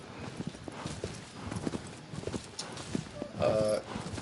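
Horse hooves clip-clop steadily in Shadow of the Colossus as the mount wanders on its own through a forest, a continuous rhythmic trot of moderate loudness with game ambience around it.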